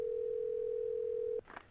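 A steady telephone ring tone in the You Don't Know Jack trivia game, one unbroken electronic tone that cuts off sharply, followed by a brief faint rustle.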